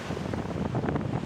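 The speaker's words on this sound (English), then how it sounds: "The Pacific waves break with magnificent roar on the reef along the west coast." Pacific surf breaking with a roar on a reef along the rocky west coast of Niue, a steady dense wash of surging water with wind buffeting the microphone, continuous and fairly loud with no talk.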